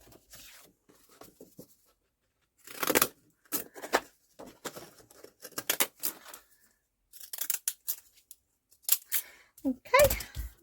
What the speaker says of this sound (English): I'm just going to use my decal edge scissors again just to leave a little border.